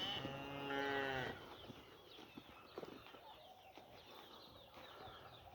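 A single loud, drawn-out moo from a heifer rings out close by for about a second, followed by quieter farmyard rustling and scattered bird sounds.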